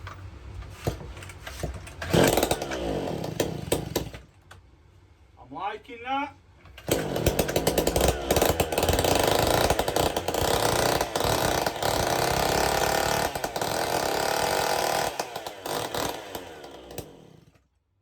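A McCulloch ErgoLite 6028 chainsaw engine, running without an exhaust, sputters, then roars to a loud, raw, unmuffled blare and holds at high revs. Someone speaks briefly in between.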